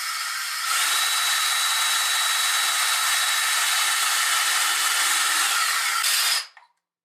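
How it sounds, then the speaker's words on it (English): A power drill bores into a hollow tile during a tile repair, giving one continuous high whine that holds steady for about six seconds, then cuts off abruptly into silence. "you're going to go ahead and begin to drill"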